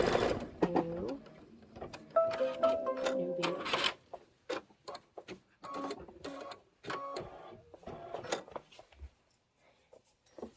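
An embroidery machine sews a tack-down stitch on fabric for a Kimberbell Life is Better in Full Bloom pillow block, a rapid mechanical whir broken into bursts with brief pauses, close and moderately loud.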